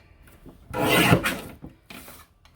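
A paper trimmer blade slides across a 12 by 12 sheet of scrapbook paper in one loud, close rasping cut lasting under a second, followed by a shorter scraping pass.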